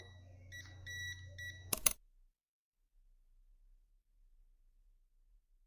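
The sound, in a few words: multimeter beeping during voltage test on outlet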